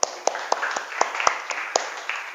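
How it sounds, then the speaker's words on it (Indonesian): Classroom clapping for a student group rings out as a string of sharp, evenly spaced claps, close and fairly sparse rather than a full applause roar. "tepuk tangan dulu untuk kelompok 1"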